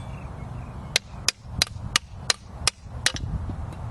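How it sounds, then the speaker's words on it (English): A hammer strikes a car control arm during bushing removal with a ball joint press, about eight sharp metallic whacks at irregular intervals, close and loud against a low background rumble. "Again, take my hammer,"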